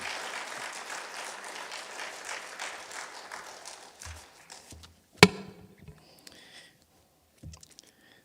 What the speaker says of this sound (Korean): 우리 목사님 나오실 때 큰 환영의 박수로 함께 목사님 맞이하도록 하겠습니다.